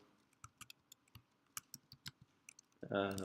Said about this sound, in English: while I'm typing that one